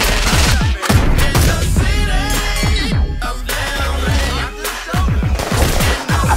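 Gunfire from a movie trailer, with rapid bursts of shots and sharp bangs packed densely under a loud, busy mix of music and effects throughout.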